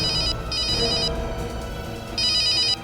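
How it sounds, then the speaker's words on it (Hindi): A telephone bell rings in bursts on the set of a Hindi crime drama, a first ring and a second one near the end, over a low background hum with no talk. "घंटी बज रही है।"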